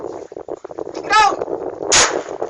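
Two loud, sharp gunshots from a gun being test-fired, cracking close by about a second apart, right after people talk excitedly in Filipino.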